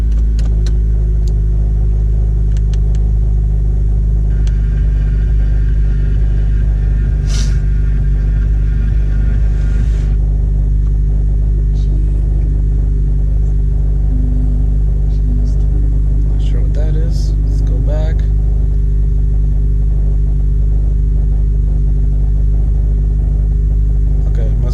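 A 2018 Honda Civic Sport hatchback (FK7) is switched fully on and runs at idle, giving a steady, loud low rumble throughout with occasional clicks and light cabin noises on top.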